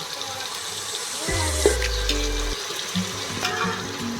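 Boiled mung beans drop into a hot tempering with chilli for a Gujarati curry, setting off a brief sizzle and watery hiss, followed by a few clinks and stirs, close by and without talk.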